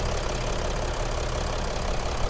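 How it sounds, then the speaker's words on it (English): A 2020 Mercedes-Benz Sprinter 2500 high-roof van's diesel engine idling with the hood open, a steady low rumble with a faint even knock, close and constant throughout, no voices. "So right here under the hood, there's our diesel engine."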